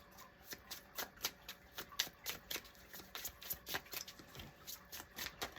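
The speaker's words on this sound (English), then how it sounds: "Okay, one more shuffle." Rapid, crisp card shuffling with a steady run of papery riffles and flicks, close and fairly quiet, no talking.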